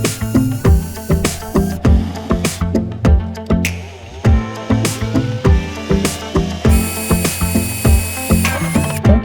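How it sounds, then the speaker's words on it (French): A drill ratchets and whirs in repeated short pulses while boring 8 mm holes into a Renault 4L door panel, loud and close, with metallic clicks between the bursts. "Bon, c'est parti, on va pouvoir percer."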